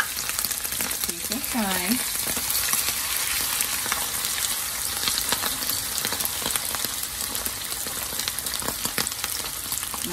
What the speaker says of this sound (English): I'm going to fry 2. At a time, because I don't want the oil to cool down.